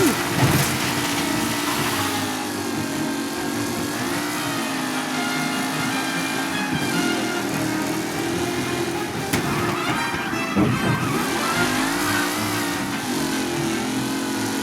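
Race cars racing in the video game Mafia Definitive Edition, with a steady loud engine drone and shifting revs throughout and passing whooshes close by, alone and without talk.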